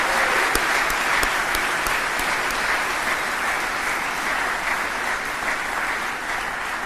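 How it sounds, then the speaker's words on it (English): At a military promotion ceremony, an audience applauds the National Anthem singer with a full, steady round of clapping, a few sharp individual claps standing out early before the sound settles into an even wash. "let's please give a round of applause to Master Carol French for that rendition of the National Anthem"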